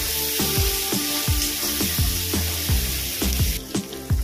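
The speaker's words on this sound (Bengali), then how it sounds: "পেঁয়াজটাকে একটু ভেজে নেব।" Onion fries in a pan with shrimp for a Bengali dish, a steady close sizzle broken by regular scraping knocks of stirring.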